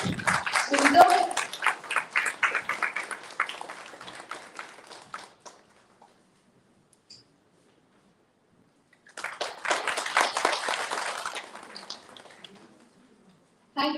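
Audience applause at a national conference inaugural session, a burst of close, dense clapping fading out, then silence, then a second round of clapping that also tapers off.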